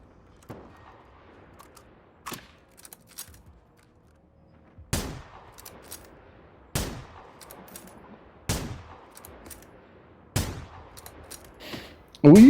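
A boss in the video game Generation Zero firing rockets, with sharp, loud blasts every couple of seconds over a quiet background and a final heavy burst at the end.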